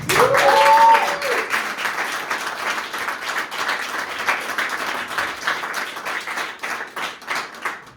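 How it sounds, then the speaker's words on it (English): Warm applause from a comedy show audience, a dense wash of many hands clapping steadily throughout, with a brief whistle-like tone at the start and the clapping easing slightly toward the end. "Little applause for yourself."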